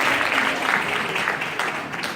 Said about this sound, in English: Did everyone give Gregory a nice birthday round of applause?